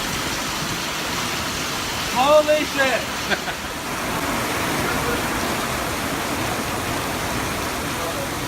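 Steady outdoor rain hiss fills the whole stretch, even and moderately loud, with a brief exclamation from a man breaking in near the start.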